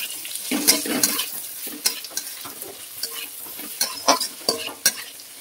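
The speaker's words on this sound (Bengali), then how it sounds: "এবার আমি পেঁয়াজ কুচি, লঙ্কা কুচি, আদা রসুন কুচি সব দিয়ে দিই। এটা একটু ভাজা ভাজা করে নিতে হবে।" Chopped onion, green chili, ginger and garlic frying in oil for fried rice, a steady close sizzle broken by repeated scraping and stirring knocks of a spatula against the pan.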